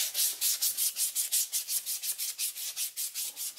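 Wooden gymnastic rings are hand sanded in rapid, even back-and-forth strokes, each pass a close, crisp scratchy rasp, about five per second, with no voices.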